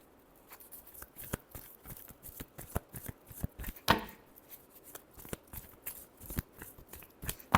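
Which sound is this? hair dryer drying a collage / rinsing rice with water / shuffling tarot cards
shuffling tarot cards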